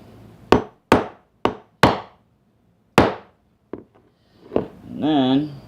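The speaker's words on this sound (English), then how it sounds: "and then hit it with the hammer." A hammer strikes a screwdriver bit set on a mountain bike chain pin: five sharp metallic taps at uneven intervals, then a couple of softer knocks, ending with a short spoken word.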